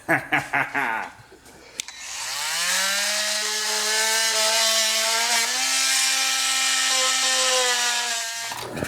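Milwaukee multi-tool cutting in a garage being built out, a loud sustained buzzing whine that holds steady for several seconds after a few sharp knocks at the start, with no talking.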